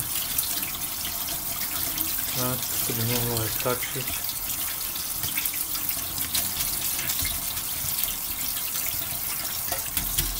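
Cold tap water runs steadily over cooked spaghetti being rinsed in a kitchen sink, a continuous broad hiss throughout, with someone speaking briefly over it.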